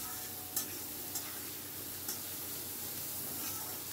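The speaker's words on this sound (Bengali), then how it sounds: "কড়াইশুঁটিটাকে নিয়ে একটু ভাজা ভাজা করে নিচ্ছি।" Green peas being fried and stirred in a pan, a steady close sizzle with a few sharp scraping clicks of the spoon on the pan.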